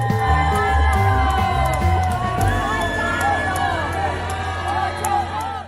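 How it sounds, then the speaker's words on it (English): Crowd screaming and yelling as a Bugatti crashes, loud massed voices with whoops and shrieks over a low rumbling roar, dense and sustained, with some voices rising and falling in pitch. "Listen to an entire crowd scream in pain as somebody crashes a Bugatti."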